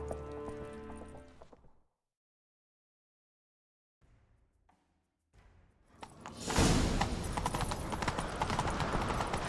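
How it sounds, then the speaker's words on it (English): A horse gallops during a chase in The Witcher 3. Faint sounds fade into near silence, then loud, close hoofbeats burst in and drum on continuously in a fast, driving rhythm to the end. "Grab a horse, we'll chase him down."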